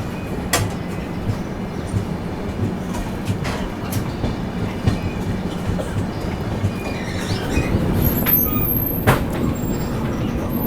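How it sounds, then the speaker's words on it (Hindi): Indian passenger train 12226 Kaifiyat Express rolling along the tracks, a steady rumbling roar with rhythmic wheel clatter and occasional squeals, loud and close throughout. "और अपनी ट्रेन निकल चुकी है अब आजमगढ़ के लिए।"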